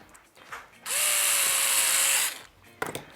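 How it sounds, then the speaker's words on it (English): A power drill driving a number 8 screw into a frame spine, one steady whirring burst of about one and a half seconds with a rising motor tone, with quieter handling noises before and after. "you have to make sure not to use the power drill to drill them all the way in"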